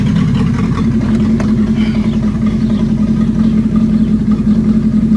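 A Renault 18 with its 2.0 engine runs close by, a loud, steady low rumbling idle with a constant throbbing hum and no voices.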